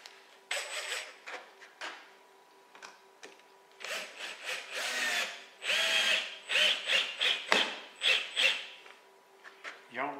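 A power drill drives screws into wood, with repeated bursts of motor whine and grinding that ramp up and stop, loud and close, while a person talks quietly between runs.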